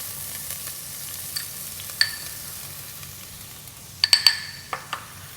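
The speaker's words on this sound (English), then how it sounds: "I'm going to add onions to it." Onions frying in ghee with whole spices give a faint, steady sizzle, broken by a few sharp clinks of utensil against pan, clustered near the end.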